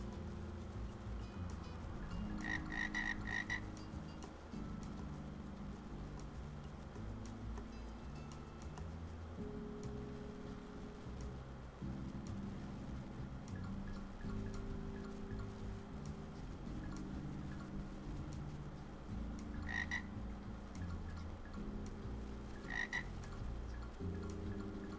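Frogs croak in a video game, a steady layered chorus of low croaks filling the whole stretch, with a few short clicking ticks popping up now and then.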